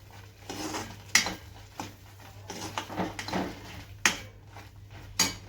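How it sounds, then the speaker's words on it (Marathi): A spoon stirs thick milk peda mixture in a hot kadhai after the gas is switched off, giving soft scraping punctuated by a few sharp metal clinks at irregular intervals, close and fairly quiet. "आता मी गॅस बंद करते आणि मिक्स करतच राहते मी कारण की कढई गरम आहे"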